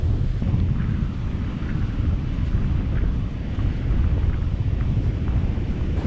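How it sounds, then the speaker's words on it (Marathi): Rough monsoon sea surf pounds the shore at Devgad, a deep continuous roar with wind buffeting the microphone, loud and steady without breaks or voices. "तुम्हाला तर समुद्राची गाज ऐकू येईल."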